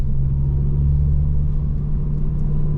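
A car's engine gives off a steady, close, low rumble and drone that holds fairly even throughout, with no sharp revs standing out.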